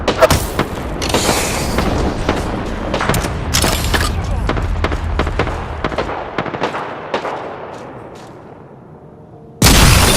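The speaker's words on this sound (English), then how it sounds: "Contact with hostile. Care package overhead. I'm taking fire" Gunfire in the Apex Legends video game: loud bursts of rapid shots and booming impacts in quick succession, tapering off before a final sharp blast at the end, with a game voice heard in places.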